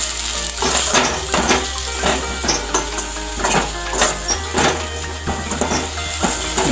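Pudina rice mixture is stirred in a pot, giving repeated scraping and clinking strokes of a spoon against metal in an uneven rhythm, fairly close and loud over a low steady hum.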